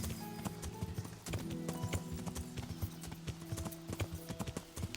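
Steady clip-clop of horse hooves trotting along in Kingdom Come: Deliverance, rhythmic and close, with game music tones underneath.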